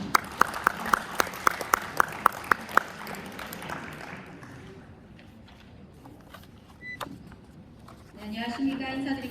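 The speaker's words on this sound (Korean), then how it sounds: "큰 박수로 모시겠습니다." Crowd applause at a secondary education staff training session in Gyeongbuk welcomes a school supervisor to the front, with sharp, evenly spaced claps standing out at first, then fading into a softer murmur and shuffling.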